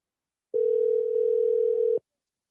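A phone call ringback tone sounds as a single steady, loud electronic hum lasting about one and a half seconds, then stops abruptly, with no talk over it.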